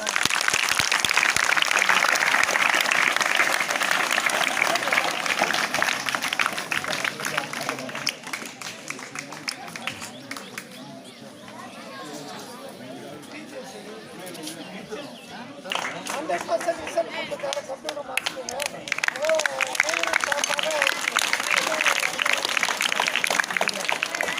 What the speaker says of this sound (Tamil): எல்லாம் என்கரேஜ் பண்ணி கைத்தட்டுங்க